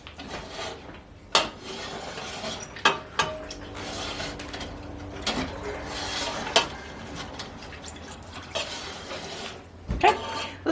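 Egg drop soup ingredients being stirred and mixed in a pot, with a steady scraping rub broken by several sharp clinks of utensil against metal, close and moderately loud.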